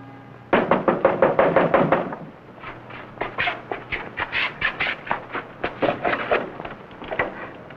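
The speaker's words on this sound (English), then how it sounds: "That man knocking on the door." Knuckles rap on a door at a house in a 1950s science fiction TV episode. A fast burst of about eight crisp knocks is followed by a pause, then a longer, slightly softer run of uneven knocks.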